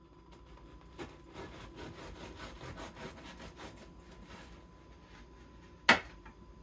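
A bread knife saws through a loaf of dense sourdough discard sandwich bread, giving soft, rhythmic rasping strokes close by at low volume, ending with a single sharp knock.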